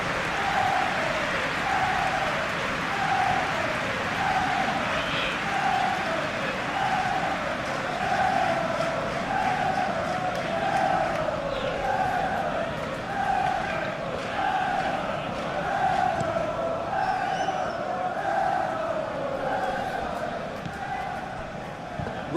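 Simulated football stadium crowd at a Liverpool versus West Ham match in a video game, a steady roar with rhythmic chanting swells running throughout, overlaid by a commentator's voice.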